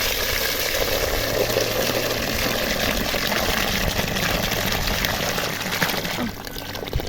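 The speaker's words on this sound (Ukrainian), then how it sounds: "заливаю холодною водою, щоб швидше остила" Cold water is poured from a hose or tap over a pot of boiled young corn, a steady loud rushing splash that continues nearly unbroken before easing slightly at the end.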